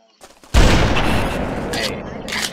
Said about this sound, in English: Are you really shooting a fucking shotgun?